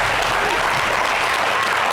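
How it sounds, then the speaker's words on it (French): A studio audience applauds on a TV show set, a short, dense patter of clapping that stays even and fairly loud throughout. "on applaudit pour moi"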